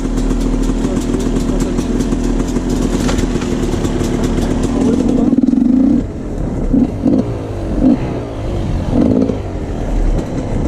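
An enduro motorcycle engine revs loudly up close, a sustained roar that drops to an idle broken by short throttle blips.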